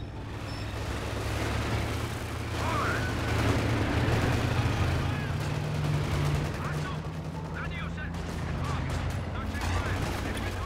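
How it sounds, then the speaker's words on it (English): Mortar rounds hit a fortified position in Company of Heroes on Hill 400, with dull rumbling booms and rattling gunfire spread through a dense, continuous battle din, moderately loud throughout. "They're mortaring my position."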